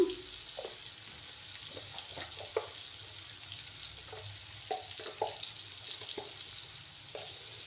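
Ground cumin, turmeric and spices sautéing in a pan while a vegetarian Bengali dinner cooks, a steady soft sizzle broken by scattered light scraping clicks from stirring, fairly quiet and close with no talking.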